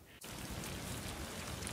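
Rain starts falling outdoors on a gray day and comes down hard, a dense steady patter close by after a brief quiet start.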